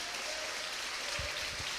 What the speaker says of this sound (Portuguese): você pode aplaudir sim ao Senhor